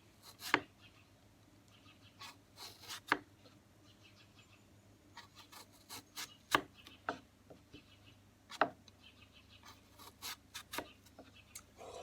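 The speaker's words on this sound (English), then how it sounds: "Can the Spyderco Military in CPM M4 flake an apple better than this unknown model of Wee knife?" A Spyderco Military knife in CPM M4 steel shaves thin flakes off an apple, giving sparse, soft, crisp cutting ticks at irregular intervals against a quiet background, with no talking.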